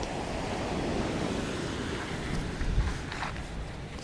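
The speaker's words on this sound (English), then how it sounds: "I'll let you just enjoy the sound of the ocean" Ocean surf rolling onto the shore during an outdoor live stream, a continuous broadband wash with wind buffeting the microphone and a slightly stronger surge near the end, no voices.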